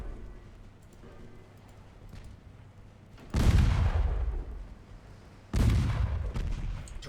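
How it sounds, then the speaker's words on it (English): Torpedo strikes on an enemy ship in the naval strategy game Ultimate Admiral Dreadnoughts: two heavy, deep booming impacts a couple of seconds apart, each a loud rumbling blast that decays slowly over quiet background. "Torpedo hits on the enemy."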